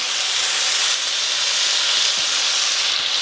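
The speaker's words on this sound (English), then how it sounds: "So I go ahead and put my thick slices in one skillet" Thick chicken slices laid in a hot skillet, giving off a dense, even hiss of sizzling that holds steady and close for a few seconds.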